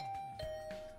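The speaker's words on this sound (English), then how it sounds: "I'll ring the bell first." A two-tone ding-dong doorbell chime from the video game The Hundred Line rings once, clear and close, with a sustained tone fading out over about a second.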